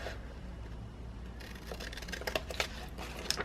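Scotch Titanium scissors snip through paper at a desk in several crisp, quick cuts, each close by and fairly faint, with a soft rustle of paper between strokes.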